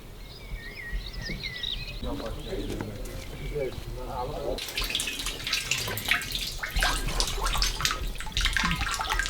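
Doogh buttermilk is poured from a container into a bag in a rural northern Iranian village, a splashing, gurgling pour rising over birdsong and dove coos, while a person talks nearby.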